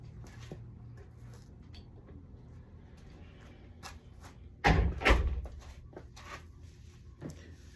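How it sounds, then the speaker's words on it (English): A door is shut partway through, giving one loud burst of thumping and rattling against a quiet room with a low steady hum, followed by a faint knock near the end. "let me close this door"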